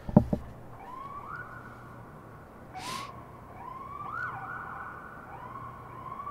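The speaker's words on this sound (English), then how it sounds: "You hear that siren?" A police siren wails in the distance, rising and falling in slow repeated sweeps, faint and unaccompanied by talk after a brief knock at the start.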